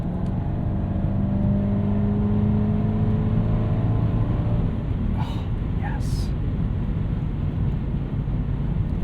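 A 1998 Lexus GS 400 engine hums and builds under acceleration after a downshift from fifth to fourth, heard from inside the cabin with a steady road roar and a couple of brief higher sounds.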